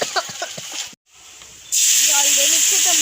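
Water poured into a hot pan of silver carp curry sets off a sudden loud, steady steaming hiss that runs to the end, after someone talks over quieter cooking and a brief silent gap.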